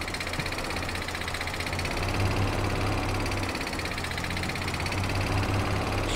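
A tractor in Farming Simulator 22 runs steadily with a low, droning engine hum and slight knocking pulse, continuous and fairly loud with no speech over it.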